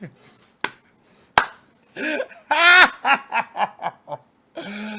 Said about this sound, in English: Slow clap for Gavin.